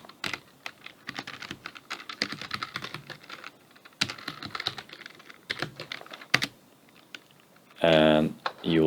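Computer keyboard keys clatter in quick irregular bursts while a command is typed, close and fairly loud, with a short pause and a louder different sound near the end.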